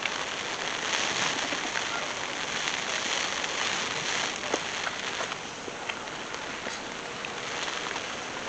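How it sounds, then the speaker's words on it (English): Rain pours steadily, a dense continuous hiss with scattered drops tapping nearby surfaces, heard alone without voices. "Look at the rain."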